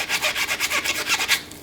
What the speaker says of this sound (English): For some parts, I can go ahead and use my toothbrush.